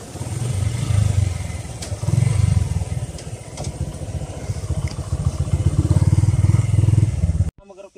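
A motorcycle engine runs and revs in surges close by, rising and falling before cutting off sharply at the end.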